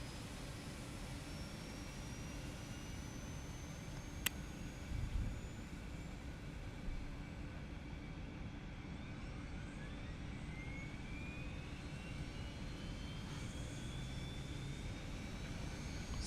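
Aerobask Eclipse 550 light jet in a flight simulator taxiing toward runway 24 at San Bernardino, a steady continuous jet engine whine and low rumble holding at an even level throughout, with a brief click partway through.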